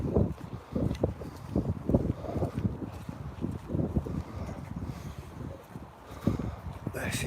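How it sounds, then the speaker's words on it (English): Gusty wind buffets the microphone on an outdoor morning walk near an old colliery and a field. Repeated low rumbling bursts come and go throughout, loud and rough, with no clear speech. "Sorry guys, a bit windy."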